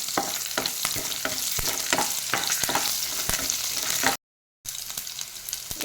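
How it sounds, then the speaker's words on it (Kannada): Green chillies frying in a pan for carrot pulao, a continuous close sizzle broken by sharp crackles and stirring scrapes, with a short gap of silence near the end before the frying resumes. "ಹುರಿಯಿರಿ."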